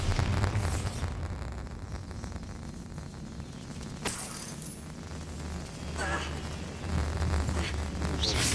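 A Bombarda blasting spell detonates in Hogwarts Legacy, a sharp crack followed by scattered debris-like crashes and clinks over a rumbling game ambience, with further bursts later.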